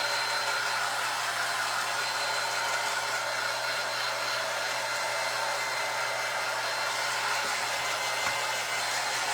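A hair dryer blows steadily and loudly throughout, drying a small damp spot on a handmade fabric ring holder, with a constant airy roar and no speech.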